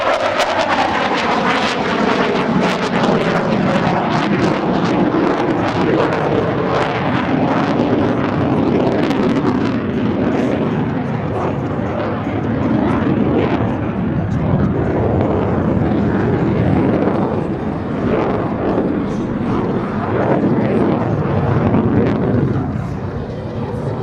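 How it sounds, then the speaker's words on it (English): An F-18 Super Hornet at the 2015 Abbotsford Airshow roars through a demonstration on full afterburner, a loud sustained jet rumble with wind buffeting that swells and stays intense throughout. "Selecting full afterburner as the speed slows through 200 miles per hour, Lieutenant Jakovich will perform a push-pul"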